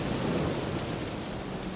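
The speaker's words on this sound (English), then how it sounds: "It's about to start raining." Steady, dense rainfall with a low rolling rumble of thunder beneath it in The Witcher 3, continuous and fairly loud, with no voices.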